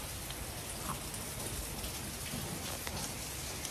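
Steady rain pours down, a dense continuous hiss with scattered drops pattering nearby, no voices.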